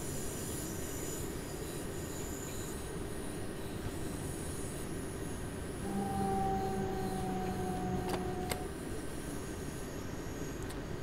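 A simulated train in Train Sim World 2 rolls into the Essen depot on the Rhine-Ruhr main line in snowy weather, with steady rumbling wheels and rail noise throughout and a drawn-out wheel squeal near the end.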